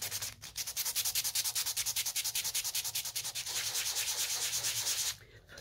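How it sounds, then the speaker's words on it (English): Sandpaper rubbed back and forth over a wooden gnome door in a workshop, a steady run of rapid, even rasping strokes, loud and close, that stops abruptly near the end. "the best thing to do is get the old sandpaper out and just get rid of a lot of these lines"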